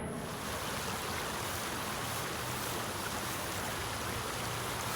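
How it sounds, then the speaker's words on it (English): Creek water runs steadily into a pool, a continuous broadband rush of flowing current that holds an even level from start to finish, with no voices over it. "we've got a little bit of current here flowing into a pool along this creek"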